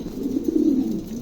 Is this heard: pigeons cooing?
yes